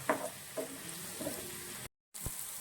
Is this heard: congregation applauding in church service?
no